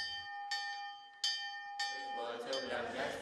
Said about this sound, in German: läutet zum Gottesdienst